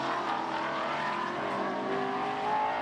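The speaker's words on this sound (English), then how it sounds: "great sound that all the cars make, distinctive engine notes" GT4 race cars at Misano circuit, including an Audi and a Toyota, give off a sustained engine drone during qualifying, a steady layered roar heard from a distance without any clear pass-by peak.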